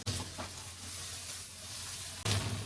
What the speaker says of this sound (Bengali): এখন এটা পেঁয়াজ একেবারে টোটালি ব্রাউন কালার হওয়া পর্যন্ত নাতে থাকবেন এই সময়টা কিন্তু নাড়ানো বন্ধ করা যাবে না